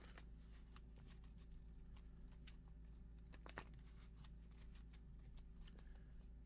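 Quiet, steady riffling and soft clicks of cards being shuffled, with scattered sharp snaps over a low constant hum.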